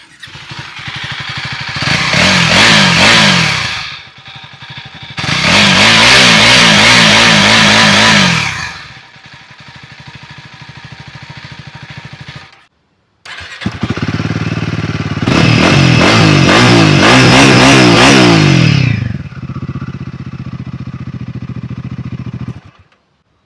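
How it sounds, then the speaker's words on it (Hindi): A KTM Adventure 390 (350cc) and a Royal Enfield Himalayan 450 rev their exhausts in turn. Loud, throaty bursts alternate with quieter idling, and there is a brief cutoff midway. "अब गाइस दोनों बाइक का एग्जॉस्ट सुनते हैं।"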